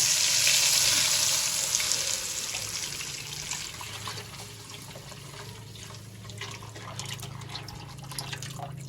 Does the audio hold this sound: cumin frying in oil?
yes